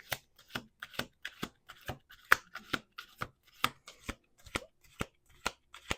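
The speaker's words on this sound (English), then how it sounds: "Last shuffle." Tarot cards shuffled by hand in a steady run of crisp riffling flicks, about twenty sharp close snaps at an even pace with no talk.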